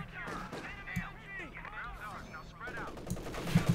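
Bursts of MG34 machine gun fire in a Company of Heroes 2 match, mixed with other battlefield gunfire and game sounds under steady voice commentary, with heavier bursts near the end.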